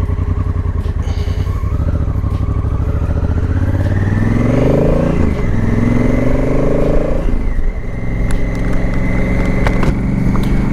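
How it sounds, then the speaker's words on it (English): A 2018 Honda Africa Twin Adventure Sports motorcycle engine runs loud and close throughout while riding, rising in pitch as it accelerates through the gears, with wind rush and no talking. "the second thing you're going to notice when you're on this motorcycle is it sounds amazing"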